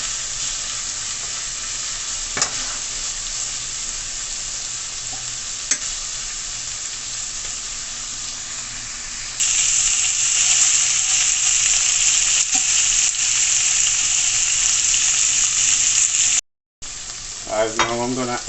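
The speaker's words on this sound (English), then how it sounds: "Just to saute the herbs and the saltfish." Herbs, black pepper and saltfish sauteing in a pan, a steady broadband sizzle running throughout, growing louder about halfway through, with an occasional scrape of stirring and a brief gap near the end.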